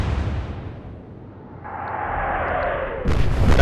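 Naval guns fire in the Atlantic Fleet war game, a booming blast that decays into a long rumbling roll, followed by a second sharp burst near the end, without talk.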